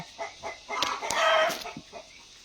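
Hens at a laying spot cluck and cackle nearby, with short repeated calls building into a louder drawn-out squawk in the middle before settling back to scattered clucks.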